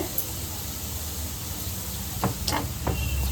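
Asafoetida and curry leaves sizzle in hot oil for a South Indian venpongal tempering, making a continuous low hiss with a few brief crackling spurts toward the end.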